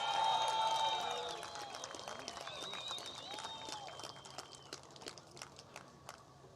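Crowd applause greets the women's runner-up at the Corona Saquarema Pro surfing contest, a spread of claps and cheers building under an announcer's amplified voice, then thinning as his talk carries on.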